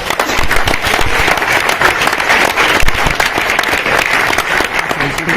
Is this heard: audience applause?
yes